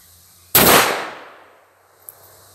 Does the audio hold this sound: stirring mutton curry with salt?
no